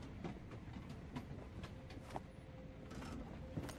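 A train rolls along in a video game mini game with a steady low rumble and rhythmic clacking, with small mechanical clicks and a faint tonal whine at moderate volume, and no voices.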